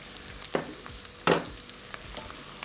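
Food in a pot with broth is stirred gently, with soft scraping and two sharper clatters of a utensil against the pot over a low bubbling simmer.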